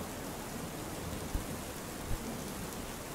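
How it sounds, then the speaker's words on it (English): Recorded rain plays as a steady, dense hiss of falling drops, quiet and unbroken, with a couple of faint low thumps. "So there's my really loud audio in the background of the rain."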